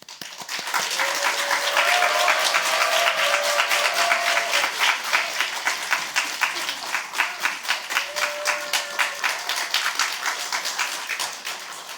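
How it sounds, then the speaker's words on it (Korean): A church congregation at a Friday worship gathering breaks into loud, sustained applause to welcome a guest speaker, dense clapping swelling and then thinning into a steadier, rhythmic patter, with a few cheers rising above it. "우리 나오실 때 큰 박수로 우리"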